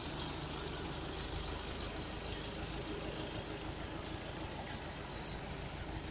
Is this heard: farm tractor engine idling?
yes